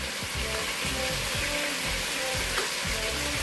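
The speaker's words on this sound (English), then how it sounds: "Alright, we got our meat searing. You can obviously hear it." Beef sears in a soup pot with steak seasoning, giving a loud, continuous close sizzle and a faint repeating stirring rhythm underneath.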